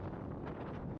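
Strong wind buffets the microphone on a cold Scottish mountain summit, Meikle Bin in the Campsie Hills, a steady broadband roar with gusty swells that cuts off abruptly at the very end.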